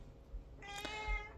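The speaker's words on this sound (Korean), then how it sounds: "제 고양이가 사랑을 달라고 하네요." A pet cat meows for attention, one clear drawn-out meow close to the microphone in a quiet indoor room.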